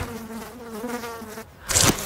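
A fly buzzing as a trailer sound effect, a close, steady droning whine that wavers in pitch, ending with a sharp brighter burst of noise; no voices.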